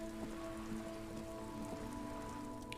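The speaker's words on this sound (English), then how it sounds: "Just standing out here in the rain." Steady rain falls in the video game Disco Elysium, a dense, even patter that continues without a break over a low, sustained tonal hum in the game's ambience.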